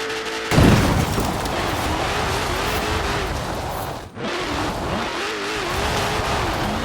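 The Demon car's engine in a racing video game, roaring loud and continuous with rising and falling revs, a heavy thump early on and a momentary dropout midway before the engine drone resumes.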